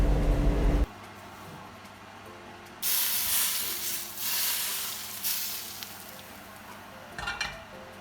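Shrimp dropped into about five tablespoons of hot cooking oil set off a loud hissing sizzle that swells and settles, with bursts of spattering and stirring and no talk.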